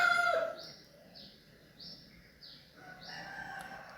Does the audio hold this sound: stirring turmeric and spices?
no